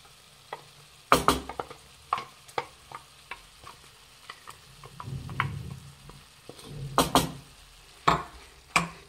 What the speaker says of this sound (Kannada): ನಾವೇನು ಗ್ರೈಂಡ್ ಮಾಡ್ಕೊಂಡಿದ್ವಲ್ಲ ಮಸಾಲ ಹಾಕ್ತಾ ಇದ್ದೀನಿ